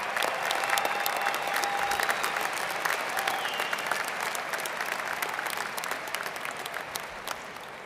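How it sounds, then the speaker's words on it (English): Graduates at the Michigan Ross commencement applaud their families, a large hall of steady, even clapping that stays strong and slowly eases off toward the end, with no talk over it. "please give them a big round of applause to thank them for all they've done to get you here"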